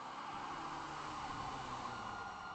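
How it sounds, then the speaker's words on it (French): An emergency vehicle siren sounds faint and distant, holding a steady, unbroken tone for the whole stretch with no voices over it. "Je la reconnais, la sirène."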